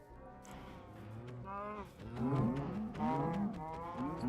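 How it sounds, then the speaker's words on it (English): Cows in the video game Minecraft moo repeatedly, several overlapping low drawn-out calls that grow louder toward the end, with steady game background sound. "Cows, your time has come."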